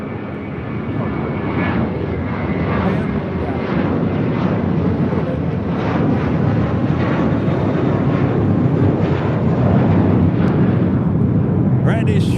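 An airliner takes off from runway 25 left at LAX with a heavy, rumbling engine roar that stays loud and steady throughout. Faint voices sit under it.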